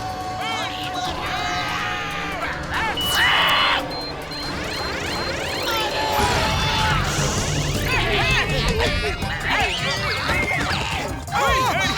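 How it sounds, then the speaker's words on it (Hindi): A broken machine is slammed onto the ground in a Hindi children's cartoon, giving loud smashing and crashing impacts amid busy cartoon effects, clattering and scattered shouting. "इसकी मशीन तो टूट गई है, जमीन पे मार देता हूँ"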